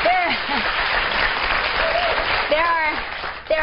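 Studio audience applauding in a broad, steady wash of clapping that fills the whole stretch, with voices and cheers rising over it near the start, around the middle and toward the end.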